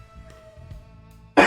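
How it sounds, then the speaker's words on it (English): A sharp burst like a sneeze or cough at the very end, after a short stretch of quiet background music and faint sounds. "Oh, sneeze and cough."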